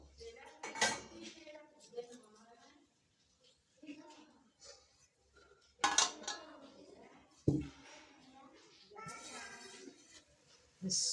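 Cooking pot and utensils handled while uncovering steamed Chinese pulao rice, scattered metallic clinks and scrapes with a few sharp knocks, heard close and mixed with talking throughout.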